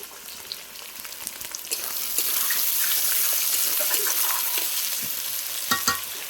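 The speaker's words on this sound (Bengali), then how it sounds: "দেখো পেঁয়াজটা ভেজে নিয়ে তোমাদের আবার শেয়ার করি" Onions fry in oil for a chicken kosha, a bright hissing sizzle that grows louder partway through, with occasional stirring clinks and scrapes close by.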